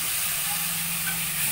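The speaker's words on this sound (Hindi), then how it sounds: "आलू को अच्छे भून लेना है" Potatoes fry in a pan for dum aloo, giving a steady, close sizzling hiss that holds evenly throughout with no talk over it.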